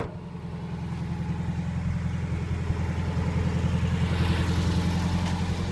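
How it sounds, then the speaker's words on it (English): A 1957 Volkswagen Beetle engine idles after a cold start, a steady close low throb with a fine rhythmic pulse that grows slightly louder, no voices. "once it's warmed up, it idles fine"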